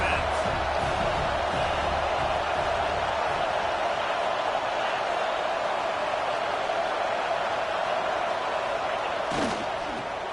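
Steady roar of a stadium crowd at a video game college football match between Michigan and Tennessee, a loud continuous wash of noise that holds throughout with one brief sharp hit near the end.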